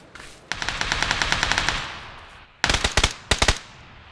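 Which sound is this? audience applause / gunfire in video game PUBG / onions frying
gunfire in video game PUBG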